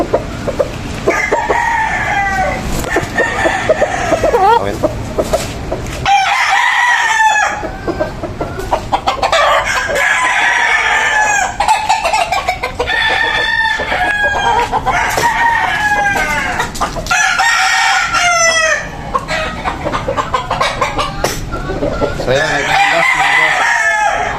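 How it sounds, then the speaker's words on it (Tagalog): Gamefowl roosters at a gamefowl expo, loud and close, crowing repeatedly and clucking throughout amid a busy crowd, with someone talking in between. "Napakagandang manok."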